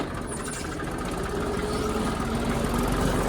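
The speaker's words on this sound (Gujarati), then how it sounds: "ટ્રેક્ટર ચાલુ થઈ ગયું" A tractor engine runs at a steady idle in a castor field, a continuous low chugging rumble that grows slightly louder, with no voices.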